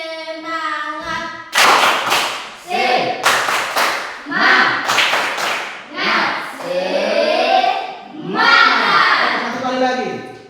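A school class does a rhythmic spirit clap (tepuk semangat), with bursts of loud, sharp hand claps in a steady pattern mixed with children's voices chanting and shouting along, close and energetic throughout.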